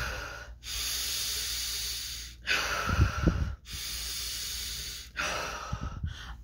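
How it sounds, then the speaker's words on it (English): Deep, forceful breaths for a telekinesis exercise, close to the mic: long hissing inhales alternate with brief pauses and snorting exhales, repeated in a slow rhythm with no talking. "10 deep breaths, and I want you to take them like this, where you're breathing in"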